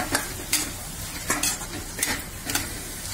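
Half-cooked potatoes being fried in mustard masala, a low sizzle broken by regular scraping spatula strokes about twice a second, close and distinct.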